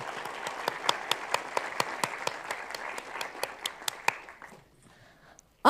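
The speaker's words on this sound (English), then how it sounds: "Give them a warm round of applause." Audience applause at an academic symposium plenary session, a steady burst of clapping from a hall crowd that fades out after about four seconds, ending in near silence.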